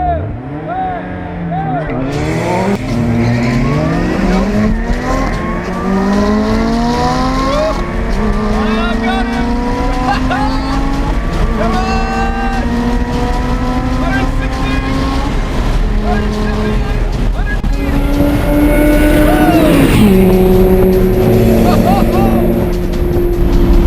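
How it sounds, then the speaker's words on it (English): An Alfa Romeo 4C and a tuned Lotus Exige launch side by side on a drag strip, loud engines rising through rapid upshifts over about twenty seconds, a second engine note climbing near the end. "So these two cars are matched close enough on the drag strip that it comes down to surface grip"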